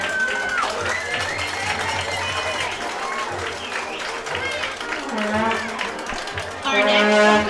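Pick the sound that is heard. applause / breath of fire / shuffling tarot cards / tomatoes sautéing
applause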